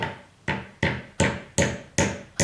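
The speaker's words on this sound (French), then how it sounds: "quand on va venir taper sur le marteau, sur le bas du manche, ça va venir renfoncer le marteau sur le manche" Six sharp, evenly spaced hammer blows, each ringing briefly then fading, as a forging hammer head is driven tighter onto its wooden handle by striking the handle's lower end against a surface.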